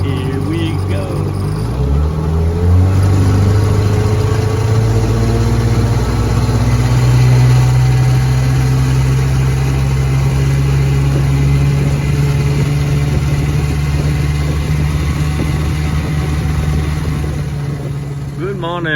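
A 1969 6 horsepower Evinrude outboard motor runs on a lake, its engine note rising as it revs up and then holding a steady, loud drone throughout, with occasional talk in the background.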